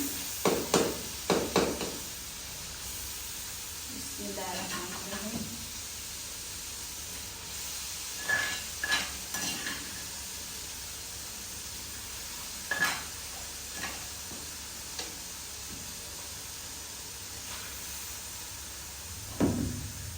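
Meat frying in a pot with tomato, ginger, green chilies and garlic for Kabuli pulao, heard as a soft steady sizzle with intermittent stirring clatters and scrapes at close range, no speech.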